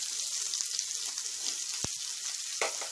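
Onions, garlic, green chilies and curry leaves frying in hot oil after mustard seeds, giving a steady close sizzle with a couple of sharp pops and spatters.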